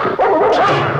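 A dog gives one loud, close bark that runs straight into an agitated, whining yip, dense and harsh for about a second with no clear talking.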